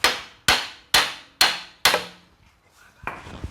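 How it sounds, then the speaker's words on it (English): Five sharp, evenly spaced hammer blows ring out on a Honda CR-V axle, each decaying quickly, followed by a quieter, duller knock. "we gotta hit this axle right here with our hammer"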